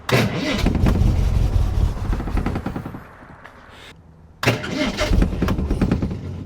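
A 1960 Triumph TR3A sports car engine cranking and firing in loud, rough bursts, cutting out briefly, then catching again with close, sputtering revs.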